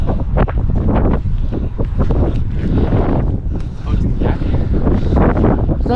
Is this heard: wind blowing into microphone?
yes